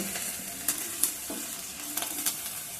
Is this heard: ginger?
yes